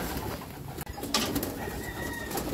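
A homing pigeon coos softly at the loft trapdoor, a few low close murmuring calls over steady background noise, with no talking.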